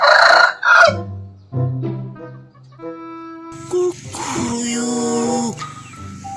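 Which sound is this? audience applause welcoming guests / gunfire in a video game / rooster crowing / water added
rooster crowing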